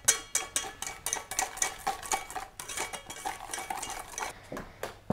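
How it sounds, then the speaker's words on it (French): Egg yolks, sugar and custard powder whisked in a bowl for crème pâtissière, a quick rhythmic clinking of whisk against the bowl, close and steady without talk. "Vas-y, tu peux continuer à mélanger"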